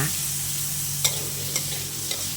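Pork belly stir-frying in a pan for a spicy Thai curry stir-fry, a continuous close sizzle broken by three light scraping strokes of a spatula, no talking.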